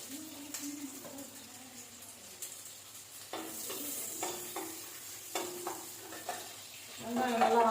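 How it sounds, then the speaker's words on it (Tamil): Onions frying in hot oil left over from deep-frying chicken kola urundai, a steady soft sizzle with occasional stirring scrapes, building louder toward the end. "வெங்காயம் நல்லா வதங்கட்டும்."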